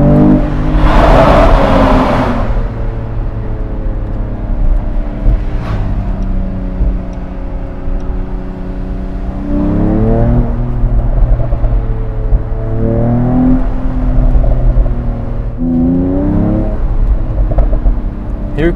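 2021 Mercedes-AMG E53 convertible driven in Sport Plus mode, its engine droning loudly up close and rising in several strong revving pulls between shifts, with a burst of wind and road rush at the start.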